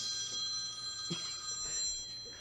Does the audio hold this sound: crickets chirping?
no